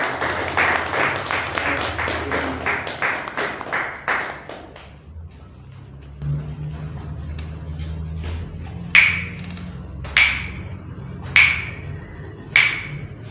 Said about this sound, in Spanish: pido para el maestro un fuerte aplauso